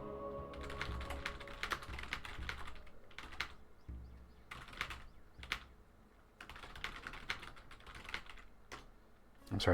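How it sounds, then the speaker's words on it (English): Bursts of quick typing on a computer keyboard while chatting in Slack, the close, light key clicks coming in clusters separated by short pauses. "I'm typing on Slack here."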